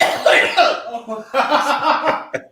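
A podcast host coughs in a rough, close, loud fit tangled with chuckling, ending in a short final hack.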